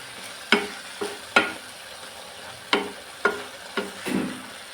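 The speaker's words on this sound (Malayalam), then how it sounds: "തൈര് ചേർത്തെല്ലാം ഒന്ന് ഇളക്കി മിക്സാക്കി എടുക്കുകയാണ് ചെയ്യുന്നത്" A spoon stirs curd into a ground coconut mixture in a pan, giving about six sharp scraping strokes at uneven intervals, close and fairly loud against a quiet background.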